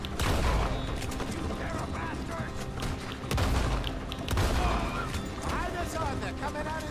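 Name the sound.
gunfire in video game Red Dead Redemption 2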